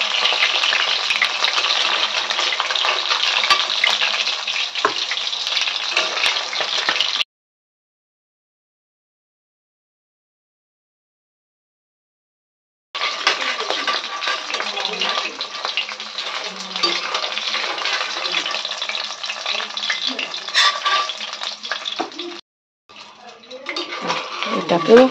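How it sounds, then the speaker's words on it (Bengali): Pieces of aar fish fry in oil in a pan with loud, close, crackling sizzle, stopping for a few seconds midway before resuming, with occasional stirring clinks. "এবার এই বাকি মাছগুলোকেও ভেজে নেব।"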